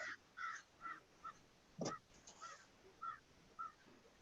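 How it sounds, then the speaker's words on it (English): Crows cawing outdoors: a series of short, faint harsh caws at irregular intervals, some doubled, heard at a distance with no talk over them. "Apparently the crows are out. Can you guys hear them?"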